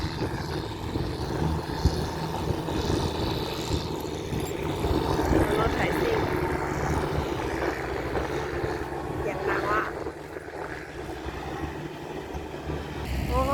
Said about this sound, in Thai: มีรถไถซิ่งด้วยค่ะ